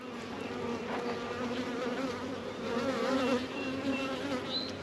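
Dense, steady buzzing of honeybee workers and drones inside an open hive during a spring inspection, a close, continuous drone with wavering pitches as individual bees pass near.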